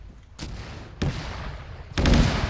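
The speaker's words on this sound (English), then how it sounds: "Mortars are coming closer, what's happening?" Three heavy thuds of mortar fire boom out at roughly one-second intervals, each one louder and closer than the last, above a low rumbling background on a military radio operation.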